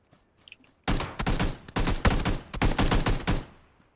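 Bursts of rapid gunfire ring out in the video game PUBG, several loud volleys in quick succession after a quiet start, with no voices over them.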